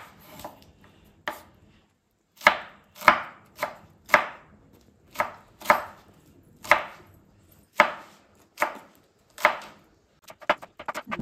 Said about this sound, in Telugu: ఇప్పుడు పచ్చిమిర్చి కూడా చిన్న చిన్న ముక్కలు కట్ చేసుకోవాలి.